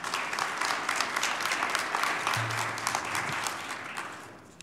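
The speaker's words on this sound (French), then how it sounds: "Alors, on peut les applaudir" An audience at an honorary doctorate ceremony claps steadily, full and even applause filling the hall and tapering slightly at the end, with a brief low hum partway through.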